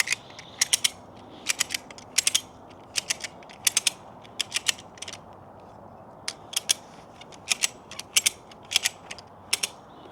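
A ratchet mechanism tightens a chain on an off-grid house and shop build, giving loud, close bursts of sharp metallic clicks in quick runs separated by short pauses, over a low background rumble.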